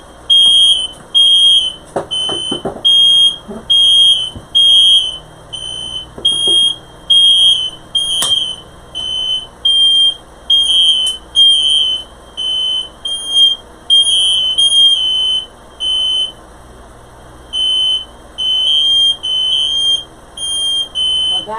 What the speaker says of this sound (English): There's nothing on fire, so I don't know why the fire alarm's going off.